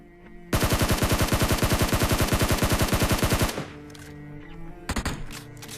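A Scar-L assault rifle fires in a video game: one loud, rapid automatic burst of about three seconds with evenly spaced shots, then a quieter pause and a second short burst.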